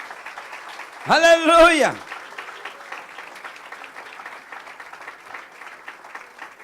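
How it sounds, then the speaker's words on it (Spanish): A church congregation applauds softly and steadily after a voice calls out loudly near the start. The clapping continues at a low level under light background noise. "Alguien tiene que aplaudir a eso."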